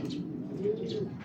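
Breeder pigeons in breeder cages cooing, a soft, low throaty coo over a steady murmur of birds nearby.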